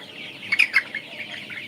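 Colour bat meat chickens on a farm, a flock clucking and chirping in a steady background murmur, with a few sharper calls standing out near the middle.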